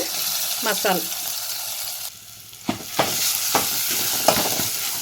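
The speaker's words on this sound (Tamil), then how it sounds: "லைட்டாக வணக்கினா போதும்" Ground masala with curry leaves sautéing in a little oil in a pan for tomato rasam, a steady sizzle with a few short spoon scrapes and stirs, close and moderately loud, with a brief voice at the start.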